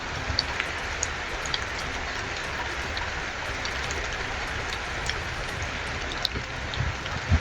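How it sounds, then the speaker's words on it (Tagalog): Heavy rain falling in a steady, dense hiss across the whole stretch, with a few brighter drop ticks standing out now and then and no talk over it. "Ngayon, lumakas yung ulan."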